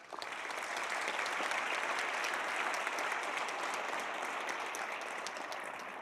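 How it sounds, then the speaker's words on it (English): Steady applause from the chamber during a PACE autumn plenary sitting rises within a second and holds at an even, moderate level for about six seconds, with no talk over it. "and also an applause for you, Justyna."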